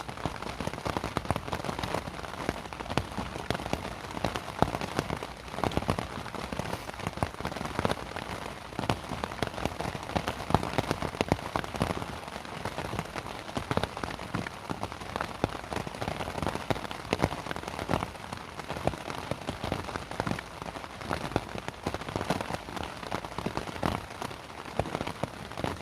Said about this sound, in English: That muted sound of the rainfall on the canvas is very soothing.